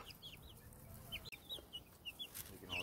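Young chicks in an indoor pen give soft, scattered clucks and chirps, close by and fairly quiet, repeating irregularly over a low background hum.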